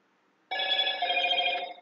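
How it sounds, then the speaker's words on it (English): A mobile phone rings once after a brief silence, giving a bright electronic tone of layered pitches that lasts just over a second and then cuts off. "Oops, sorry, it's my little phone."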